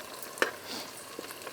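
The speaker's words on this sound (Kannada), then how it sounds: "ಆನಿಯನ್ನು ಫ್ರೈ ಆಗ್ತಿದೆ" Onions fry in a pan for a chicken biryani, giving a soft, steady sizzle with a couple of brief stirring scrapes near the start and faint clicks later, quiet and close with no talk.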